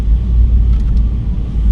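A loud truck engine with a broken muffler rumbles deep and steady at close range, a continuous low roar with no voices.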